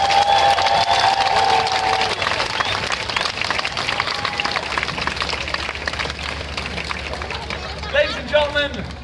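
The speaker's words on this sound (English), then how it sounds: "Don't clap like you're watching golf. Nice and loud." Outdoor street-performance crowd at a buskers festival applauding volunteers, dense continuous clapping and cheering at close range, loud throughout and tapering slightly near the end, with voices mixed into the din.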